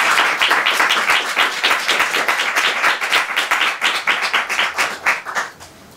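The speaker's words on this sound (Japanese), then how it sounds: "右肩が良いという方は拍手を送ってください。" A crowd applauds to back the right side in a Japanese waka and dance contest, many hands clapping in a loud, dense wash that thins and fades toward the end, with no speech.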